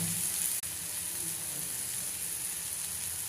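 Tomato chutney spices fry in a pan with a steady, soft hiss and crackle of oil, continuous and fairly quiet, with one brief tap or stir near the start.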